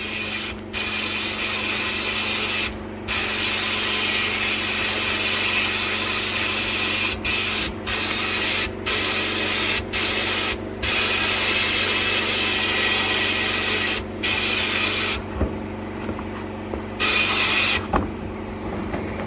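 An air compressor running during sandblasting of copper bars to remove oxidation, a continuous loud mechanical drone broken by repeated brief gaps and clicks, with no talking.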